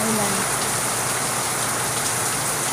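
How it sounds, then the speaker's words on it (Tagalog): Heavy rain pouring steadily during a flood in a residential area in the Philippines, a dense continuous hiss of drops striking surfaces, close and loud throughout. "Ayan na naman ang ulan."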